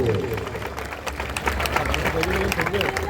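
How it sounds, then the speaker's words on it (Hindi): Clapping from the crowd at a village assembly celebrating Sant Ravidas Jayanti in Singhpur, a steady dense patter that runs throughout under voices and background hubbub. "आप एक बार ताली बजा करके स्वागत करिए।"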